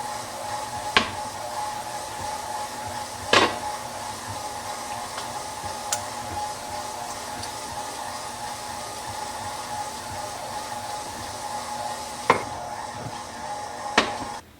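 A KitchenAid stand mixer mixes dough in a home kitchen, giving a steady motor whir in the background, broken by a few sharp clinks.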